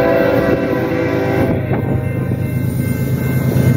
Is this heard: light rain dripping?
no